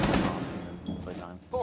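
Gunfire in the video game Rainbow Six Siege, rapid shots heard amid a player's voice, with a burst at the start and another near the end.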